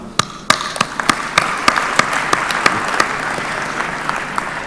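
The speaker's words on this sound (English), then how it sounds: "please join me in a round of applause" An audience claps steadily at a conference lunch break, a dense, even round of applause in a large hall with a few sharper individual claps standing out.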